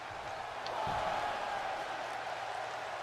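Arena crowd noise at a 2003-era wrestling show in the WWE 2K23 video game, set live in Seattle, Washington: a steady, loud roar of cheering that swells briefly around the middle and never drops away.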